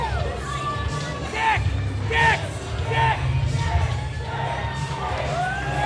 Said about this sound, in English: The crowd showing appreciation of Fantana as he makes his way to the back